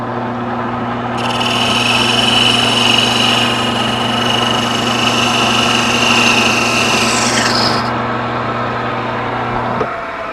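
A wood lathe parts off a turned birdhouse ornament body: a steady motor hum with a loud, hissing cutting sound that runs for several seconds, then stops while the machine keeps spinning.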